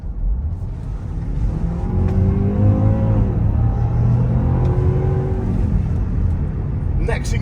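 A Range Rover Sport P400e hybrid accelerates in drive, its engine note swelling into a rising whir and grunt heard from inside the cabin, climbing steadily then levelling off at a sustained drone.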